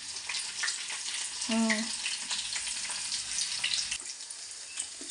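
Chopped onions frying in hot oil for a chicken curry, a steady close sizzle throughout, with a brief faint voice-like tone partway through.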